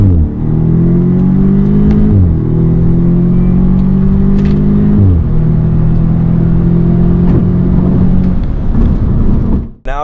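A 2015 Audi S3 turbocharged engine pulls hard through several gears, each rising surge of revs broken by a brief dip at the shift, loud and close, ending abruptly.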